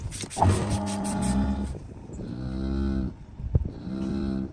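A cow moos in long, loud, drawn-out calls, about three separate lows heard close by, with some shuffling movement around them during hoof trimming.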